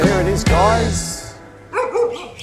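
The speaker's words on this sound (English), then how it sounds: "excuse those dogs barking everywhere" Several dogs bark loudly and close by in a couple of sharp bursts, with a whimpering yip near the end, heard outdoors near a Brixton 150cc motorcycle.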